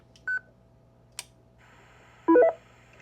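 A Kenwood radio keys a repeater in a brief kerchunk. A short beep comes first, then a click and a burst of hiss, and last a quick rising multi-tone chirp from the repeater.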